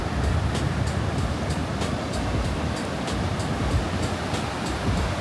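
Stormy sea surf washing onto a beach near the Santa Barbara fortress in Spain, a steady loud roar of breaking waves with no pauses or voices.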